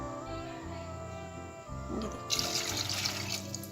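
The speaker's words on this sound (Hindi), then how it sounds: "इस तरह से 2 गिलास आपने इसमें पानी को शामिल कर देना है" Two glasses of water are poured into a cooking pan of apricots for a sweet apricot chutney, starting as a splashing rush partway through and continuing steadily over a low background hum.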